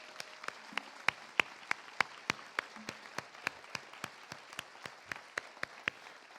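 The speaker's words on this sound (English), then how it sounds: "Can we give them a round of applause?" Festival supporters at a public conversation event give a modest round of applause, a thin patter of claps in which one or two close hands keep a steady, regular beat from start to finish.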